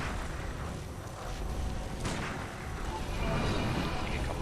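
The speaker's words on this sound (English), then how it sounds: "Take a couple gunshots." Gunshots in the video game Bloodborne during the Ebrietas boss fight: a sharp report stands out over a dense, noisy rumble of game sound that stays loud throughout.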